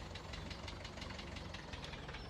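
A small McCormick tractor engine idles in a farming video game, a quiet, steady, rhythmic chugging with evenly spaced knocking pulses and no talk over it.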